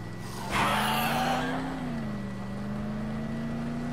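A vehicle drives in the video game Dead Island Riptide, a steady droning engine hum with a rising revving whoosh early on before settling into an even tone, no voices.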